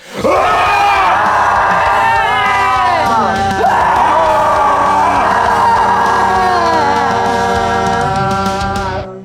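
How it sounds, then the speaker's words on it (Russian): A group of people shouts a long, loud, sustained "A" vowel together during a meditation session at a villa, voices overlapping in a continuous chorus that rises and wavers for several seconds. "Нужно будет кричать звук А вместе со мной."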